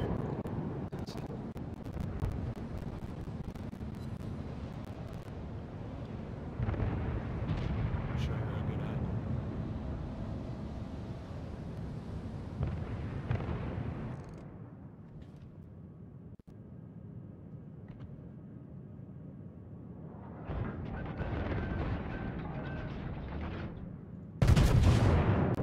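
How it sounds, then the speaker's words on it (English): Battleship main guns firing HE shells in the World of Warships video game, heavy booming gunfire and rumbling battle noise at steady loudness, quieter stretch near the end before a sharp final blast. "This battleship's firing HE then."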